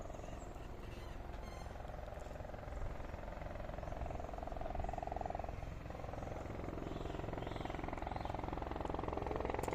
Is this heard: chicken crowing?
no